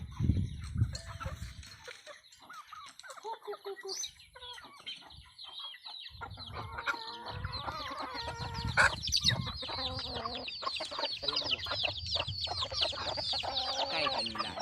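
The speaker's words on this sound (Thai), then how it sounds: "ไปทำการปล่อยไก่กัน" Chickens cluck and squawk close by, a busy flock with overlapping calls and an occasional rooster-like crow, growing livelier as it goes.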